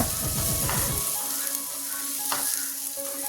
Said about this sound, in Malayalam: നമുക്ക് നല്ലതുപോലെ ഒന്ന് വഴറ്റിയെടുക്കാം.